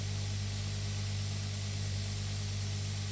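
A crop sprayer in the Pure Farming 2018 video game works a cherry orchard in Japan, giving a steady, loud hiss of spray over a constant low engine hum that never lets up.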